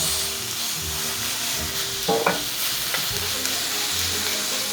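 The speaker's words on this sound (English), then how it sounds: "the first thing we're gonna do is brown the beef" Ground beef browns in a hot pan with a steady, close sizzle and frying hiss, broken by a brief scrape of stirring.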